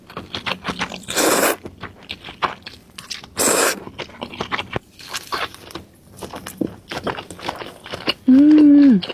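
Someone eats spicy meatball noodles with cheese-filled meatballs and something crunchy. Close, crisp crunches and scrapes come in uneven bursts, with a couple of louder rustling swells and a short voiced hum near the end.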